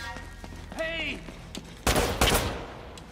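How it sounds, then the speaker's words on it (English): Gunfire in the video game Uncharted: Drake's Fortune, heard as two loud, close bursts of shots in the second half. Before them there is a quieter stretch with a brief tonal whistle and faint background sounds. "Who's shooting at me?"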